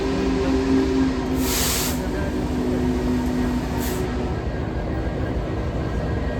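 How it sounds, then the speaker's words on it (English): Union Pacific 4014 steam locomotive on the Reading and Northern, heard close with a loud, steady hiss and rumble and a couple of brief, brighter bursts of escaping steam. "And I thought I'd never see a UP engine up close, let alone a steam engine."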